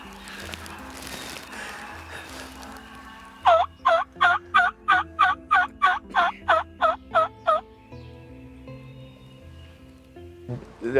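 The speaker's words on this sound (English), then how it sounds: "we hear some gobbling going on all around us" Wild turkey calls on a spring morning hunt: a rapid run of about a dozen loud, evenly spaced calls dominates the middle, with fainter calling at the start and end.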